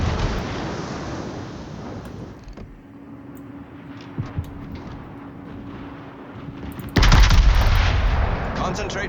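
Naval guns fire in the warship game World of Warships, a heavy booming blast at the end after a stretch of low rumbling engine and sea ambience, with brief game voice callouts.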